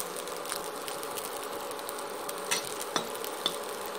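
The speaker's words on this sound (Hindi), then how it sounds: "मीडियम फ्लेम पे इंडक्शन पे बना रही हूँ मैं सब्जी, मीडियम फ्लेम पे इसे फ्राई की हूँ" Jackfruit curry frying over medium heat on an induction cooktop: a quiet, even sizzle with faint scattered ticks and a few light stirring taps.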